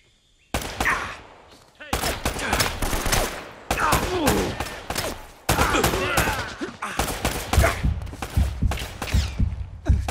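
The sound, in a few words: gunfire in the video game Uncharted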